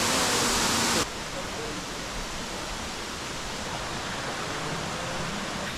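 Rushing water of a waterfall near Ubud, Bali, a steady broadband roar throughout, louder and brighter for the first second, then a dense continuous wash with no voices.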